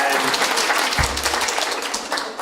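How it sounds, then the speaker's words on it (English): Applause from an audience at a talk with film director Darren Aronofsky, a dense, steady patter of many hands filling the room, with a brief low thump partway through. "That's worth applause."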